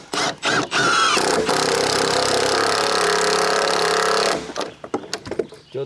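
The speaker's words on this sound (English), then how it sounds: "Drilling the pilot holes." Power drill boring pilot holes while building a bridge, a loud sustained whir of about three seconds framed by short bursts and clatter before and after.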